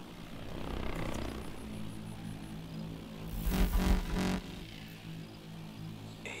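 Whirring buzz of a small hovering drone in the video game Call of Duty: Advanced Warfare, holding steady and swelling briefly louder midway over a low droning game ambience, with no talk.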